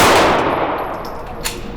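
During a knife-attack charging concealed-carry drill, a single sharp gunshot cracks out at close range and decays into a ringing tail, followed by a faint metallic ping.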